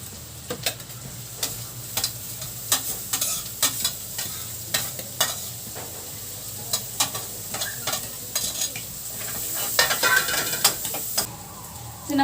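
Chopped garlic cloves and onion sautéing in a pan for tri-color pasta, a steady sizzle broken by frequent sharp scrapes and taps of a spatula stirring, close and fairly loud.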